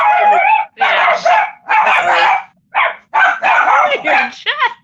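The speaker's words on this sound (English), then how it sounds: "They make me laugh when they bark too." Dogs bark in a series of loud, close yips and barks separated by short pauses, ending with a rising whine-like yelp.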